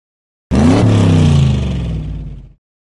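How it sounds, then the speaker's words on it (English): Toy cars driving in a Curious George video game: one loud engine-like revving whir with clatter that starts abruptly, holds steady for about two seconds, then cuts off, with no talking. "Jump on the table to avoid toy cars."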